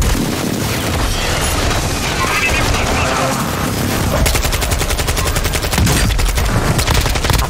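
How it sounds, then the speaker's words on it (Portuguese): Airstrike and gunfire in the video game Call of Duty Warzone 2.0, loud continuous rapid automatic fire and booming blasts, dense and close throughout, with a player's voice over the action. "Me chamaram um ataque aéreo."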